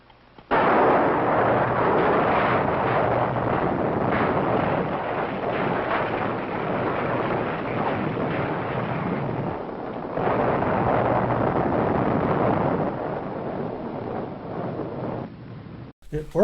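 A huge explosion in a monster movie roars as a sustained, loud rumbling blast that rolls on for around fifteen seconds, with a brief dip midway before the roar resumes and then cuts off.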